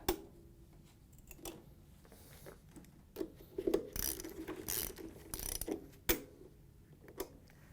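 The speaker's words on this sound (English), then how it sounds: "we're going to take the socket and tighten down the nuts so it clamps it into place" A socket ratchet tightens the nuts that clamp a washer gasket on a Frigidaire/Electrolux washer, giving faint, intermittent clicking bursts and metallic clunks close by, with pauses between the strokes.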